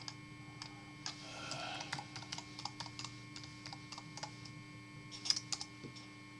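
A URL being typed on a computer keyboard, quiet irregular key clicks in quick bursts over a faint steady hum.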